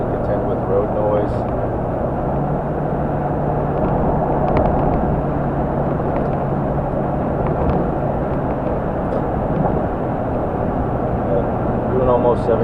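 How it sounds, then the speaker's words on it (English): Inside a lifted truck cruising at almost 70 mph, steady road roar and wind noise fill the cab as a constant, loud drone with a low hum underneath, while someone talks over it throughout. "So road noise, wind noise."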